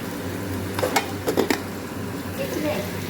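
Potatoes fry in a pan with a soft background sizzle while a utensil scrapes and stirs them in a few brief clattering bursts, with a low steady hum underneath.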